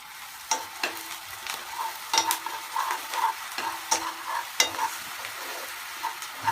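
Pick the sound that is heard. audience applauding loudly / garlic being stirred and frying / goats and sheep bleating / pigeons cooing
garlic being stirred and frying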